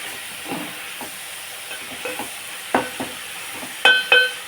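Cabbage fries in a covered pan with a soft, steady hiss, broken by a few scattered clinks and two sharper metallic knocks near the end; no one speaks.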